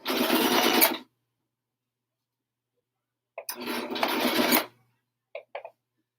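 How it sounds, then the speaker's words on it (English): A sewing machine stitches fleece polo wraps in two loud, close runs of rapid mechanical whirring, separated by a pause and followed by a couple of brief stitch bursts. "I don't want to pull too much while I'm sewing or it will pull it out of shape"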